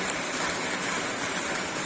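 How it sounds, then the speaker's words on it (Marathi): Steady hiss of rain pouring down near Anjarle beach on the Konkan coast, a continuous even wash of noise with no voices. "आणि आता मस्त पाऊस चालला इथे"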